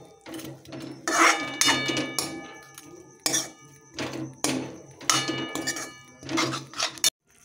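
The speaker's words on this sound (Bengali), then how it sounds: "তো এই গুড়ের সঙ্গে এখন আমি এটা হালকা ফ্লেমে আরও কিছুক্ষণ নাড়াচাড়া করব" A utensil scrapes and clinks against a pan as carrot is stirred with jaggery over a low flame, making irregular bursts of metallic scraping separated by short pauses.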